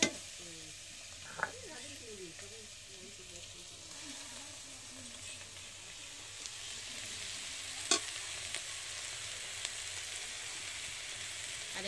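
Vegetables frying in a pan as spices go in, tengra fish with mushroom-style sabzi, giving a steady low sizzle with occasional stirring scrapes and a couple of sharp clinks.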